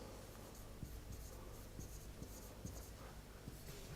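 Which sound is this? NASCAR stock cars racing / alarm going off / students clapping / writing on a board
writing on a board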